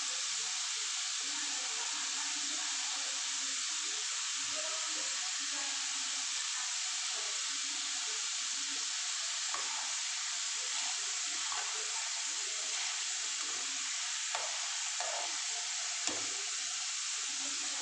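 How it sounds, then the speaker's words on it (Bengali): Lentils frying in hot oil for homemade chanachur give a steady, even sizzling hiss that carries on throughout, with faint low clatter beneath and no talk. "এই যে আমি ডালগুলো এইভাবে ভাজছি, আপনারা এইভাবে ভাজবেন।"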